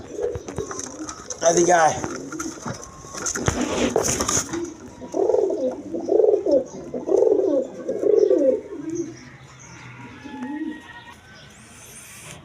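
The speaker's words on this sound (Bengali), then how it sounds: "এক পেয়ার রেড কালার সিরাজি কবুতর আছে" A pair of red Siraji pigeons, a female and a male, coo in several close, rounded phrases one after another, with a brief spoken call and some background noise early on.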